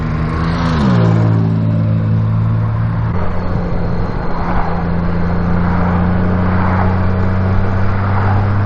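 A Maserati's engine drones along the road in a steady, loud hum, its pitch dropping early and then holding, with wind rush over it.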